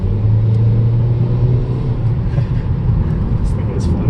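A 2018 Mercedes-Benz CLA 250 with a turbo inline-four accelerating on a back road, a steady loud engine drone and road rumble heard from inside the cabin.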